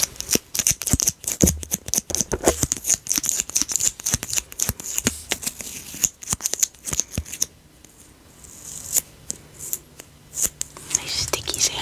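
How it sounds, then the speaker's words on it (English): Price stickers peeled off the back of books, a string of close, crisp tearing and rustling sounds in short bursts, with soft quiet talk in between. "sometimes they put stickers on the back. See how these ones, they peel off pretty nicely."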